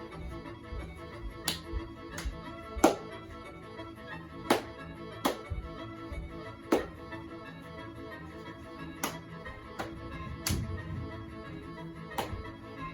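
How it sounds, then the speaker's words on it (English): Rhythmic hand claps and foot stomps from a clapping and stomping group dance, sharp regular beats spaced about a second apart, fairly close and clear over quiet music. "the final dance of the clapping and stomping"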